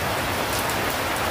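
The first monsoon rain of the season pours down in a dense, steady patter, a close, even wash of drops striking surfaces with no pauses and no voices.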